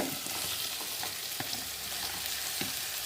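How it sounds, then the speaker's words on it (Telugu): Mushrooms sizzling in a pan of softened cooked tomato, a steady close frying crackle with occasional stirring clicks, no talk. "ఆ తర్వాత నేను మష్రూమ్ ఇందులో వేసేసుకుంటున్నాను."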